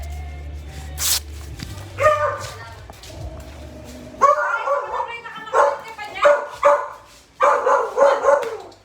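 A dog barks and yips repeatedly in short bursts at close range, mixed with shouting voices and commotion as people call out nearby.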